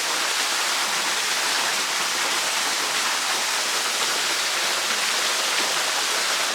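Rushing rainforest waterfall in uninhabited Australian bush, a dense, steady roar of falling water that fills the scene evenly from start to finish with no voices.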